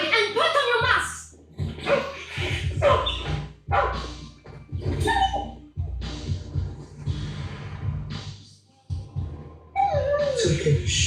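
A small dog barks repeatedly and yips amid animated voices, including a child's, with barks overlapping the talk throughout.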